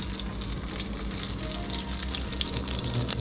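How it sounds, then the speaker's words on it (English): Coral trout fries in a hot pan with a steady, dense sizzle and crackle that carries evenly from start to finish, with no talking. "Now it's sizzling."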